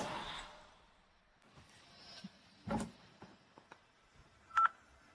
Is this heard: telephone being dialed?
yes